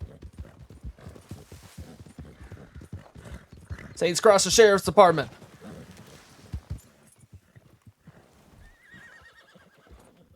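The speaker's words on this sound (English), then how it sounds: "Come on, horsey. It's to the right." A horse in the RedM western game gives one loud, close whinny in the middle while hoof clip-clops patter underneath, with someone talking throughout.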